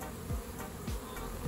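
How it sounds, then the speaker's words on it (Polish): Honey bees buzzing at a hive on a warm 20-degree day, a steady dense insect drone with individual bees flying close past the microphone now and then. "Pszczoły pięknie pracują, naprawdę."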